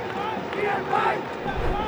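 A cricket crowd at a BPL match between Fortune Barishal and Khulna Tigers roars and cheers in a swelling stadium wash after a good shot, with the noise rising near the middle and a commentator talking over it.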